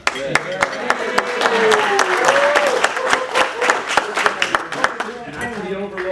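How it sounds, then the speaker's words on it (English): A room at a Rotary Club meeting in Sanford, North Carolina, fills with sustained group applause, dense and fairly loud for several seconds, with voices talking over it. "Let's give a big round of applause for Yvonne for that great."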